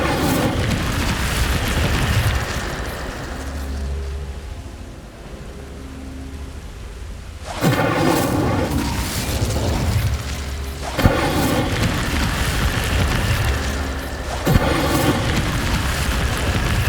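Fire spell blasts from the video game Hogwarts Legacy, heard as deep booming bursts over a rumbling game soundscape, with a quieter lull before sharp impacts land around the middle and again toward the end.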